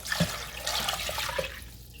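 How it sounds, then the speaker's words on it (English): Water pours into a cooking pot holding red beans and meat, a steady liquid splash and trickle running for about two seconds, close and fairly clear, with no talking. "we're going to add enough water to just pretty much cover these beans and the meat"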